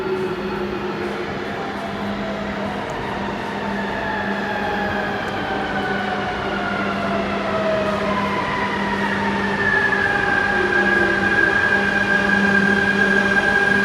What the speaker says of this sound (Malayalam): തുർക്കിയിലൊരു മെട്രോ റെയിൽവേ സ്റ്റേഷനിലാണ് കേട്ടോ.